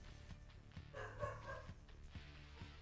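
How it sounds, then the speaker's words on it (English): A dog barks a few times, faint and somewhat distant, with short yips set against a low, steady room hum. "What are you barking at?"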